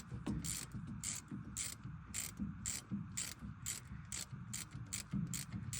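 A hand ratchet loosens nuts and bolts on the rear differential of a 1994 Chevrolet Silverado, giving a steady run of close, rhythmic clicking strokes over low workshop rumble.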